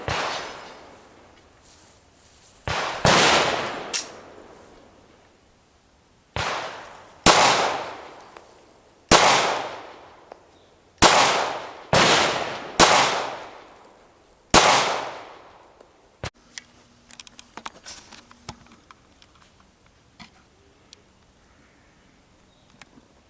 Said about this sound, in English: I'm gonna see if I can tighten that up a little bit with that Ruger LC9.